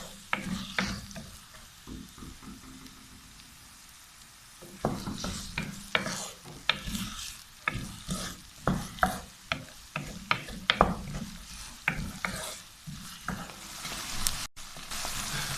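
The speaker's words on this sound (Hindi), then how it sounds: "बस इतना भूनते हैं कि बस थोड़ी सी प्याज नरम हो जाए।" Onions fry softly in a pan with repeated scraping and clicking of a utensil stirring, quiet at first and then steady and busier.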